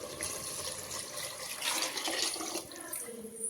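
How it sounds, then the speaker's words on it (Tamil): Rice-soaking water poured into a pot of mutton biryani, a continuous splashing, gurgling pour of moderate loudness lasting a few seconds, close by. "அரிசியில் ஊற வச்சுருந்த தண்ணியை எடுத்து இதில் ஊற்றிக்கோங்க."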